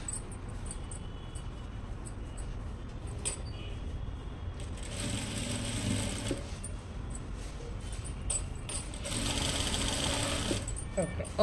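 A sewing machine stitches the folded border of a boat-neck blouse, running in a steady, close mechanical whir that gets louder in two longer bursts while someone talks over it.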